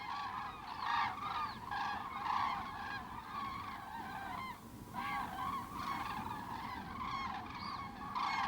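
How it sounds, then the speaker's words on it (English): Thousands of cranes fly toward their roosting places on the flat waters of the Bodden, their dense, overlapping bugling calls forming a continuous chorus with brief lulls, moderately distant. "Every evening, thousands of cranes fly off to the roosting places far out on the"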